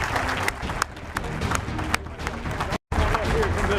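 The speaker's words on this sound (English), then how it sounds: "with your applause, will you congratulate one more time the 58 and the 88, Thomas Davis and Greg Olsen" Stadium crowd applauding retiring Carolina Panthers players Greg Olsen and Thomas Davis, sustained clapping and cheering with crowd noise and a brief dropout near the end.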